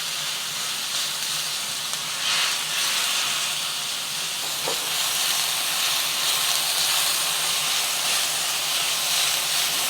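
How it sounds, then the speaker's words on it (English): Ground pork spread flat, searing and sizzling in a hot pan, giving a steady loud hiss throughout with a faint scrape partway through. "Just going to spread it out and let it sear for about a minute on one side before moving it around."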